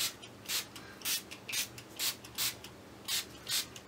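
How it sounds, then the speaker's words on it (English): Regular bursts of hissing spray, about eight short pumps in a steady rhythm, close and moderately loud with no talking. "this is just a spray bottle of water, and I'm going to"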